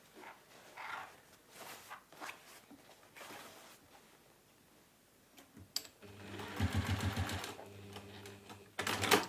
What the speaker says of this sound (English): I'm just sewing these with a seam allowance that's less than 1/2 inch